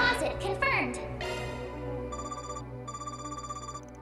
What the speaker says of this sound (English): I don't recognize this ringtone